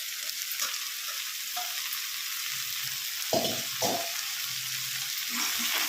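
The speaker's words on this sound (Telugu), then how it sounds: "టమాటా కూడా కాస్త వేగనివ్వాలి." Tomato pieces frying with raw banana in a pan for a home-style gravy curry, giving a steady close sizzle broken by a few scraping stirs of a spoon, with no talk.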